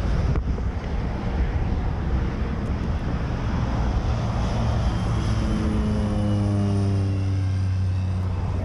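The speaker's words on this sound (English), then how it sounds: "It's an orange plane and it's crop dusting, and it just passed over." An orange crop-dusting propeller plane passes overhead, its steady engine drone sliding down in pitch as it moves away, heard through heavy wind buffeting on the microphone.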